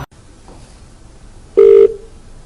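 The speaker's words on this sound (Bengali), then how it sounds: "phone call" A telephone rings once with a short, loud electronic tone after a brief quiet pause, preceded by a faint click.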